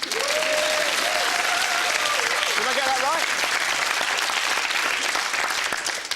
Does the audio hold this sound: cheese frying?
no